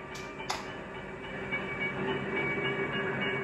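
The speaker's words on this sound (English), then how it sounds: "Soon, the freight train arrives at its first stop." A freight train arrives at a station with a steady, moderately distant rumble of rolling cars and faint sustained metallic squeals, punctuated early by two sharp clanks.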